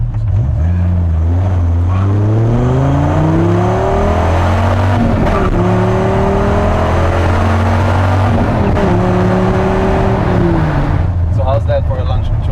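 Sports car launch using launch control, a Nissan R35 GT-R or Dodge Viper, with engine revs climbing and shifting through gears in a loud, continuous roar, up close and sustained throughout, with people talking over it.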